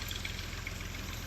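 A Fiat 480 tractor engine driving a water pump in Punjab, Pakistan, chugs at a steady idle, a low rhythmic throb, close and continuous through the short stretch.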